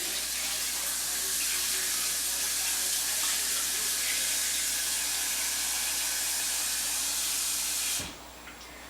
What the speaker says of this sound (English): all I'm going to do is add enough water just so it covers the potatoes